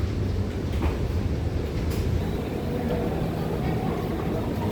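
Steady low rumble of an MRT rail car in motion, a constant droning hum with faint rattles, heard from inside the train.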